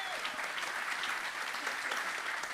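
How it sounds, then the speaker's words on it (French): Some 350 people at a national association congress opening applaud themselves, a thick, continuous roar of clapping that holds at an even level throughout the short burst. "Vous pouvez vous applaudir."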